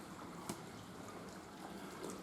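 Water falls and trickles steadily inside a red brick storm drain, a faint, continuous wash that echoes softly, with a couple of brief splashes.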